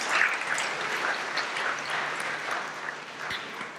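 Audience applause in a school hall during a head student elections assembly, a steady broadband patter of many hands clapping at moderate distance for the whole stretch, fading slightly toward the end.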